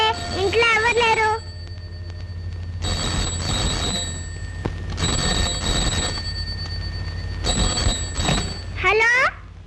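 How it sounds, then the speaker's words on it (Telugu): A house telephone rings in a film scene, sounding in three long, insistent bursts of bell-like trilling, with voices speaking briefly at the start and end. "ఫోన్ అవుతుంది, ఇంట్లో ఎవరు లేరు."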